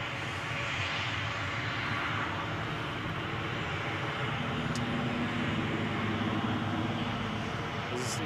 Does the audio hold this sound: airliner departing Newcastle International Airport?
yes